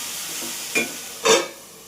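Green chillies fry in a pan with a soft steady sizzle, broken by two short louder bursts of hissing as they are stirred.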